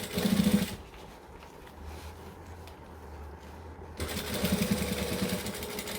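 A sewing machine stitching a seam, with two loud runs of stitching, one at the start and one at the end, separated by a quieter pause with faint handling.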